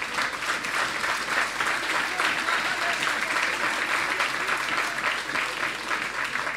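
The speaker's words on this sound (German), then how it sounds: "da kann man klatschen" A crowd claps steadily at a political Ash Wednesday rally of the Left party in Bavaria, dense, even applause filling the hall throughout without a break.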